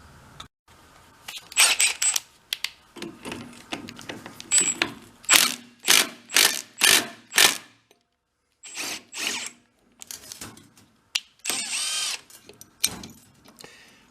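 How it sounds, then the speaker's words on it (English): Power tool driving a puller's bolts on a German air-cooled engine, a string of short whirring bursts with pauses between, close and loud, plus a few ratcheting mechanical clicks. "Let's go get a puller set up on those 3 bolts."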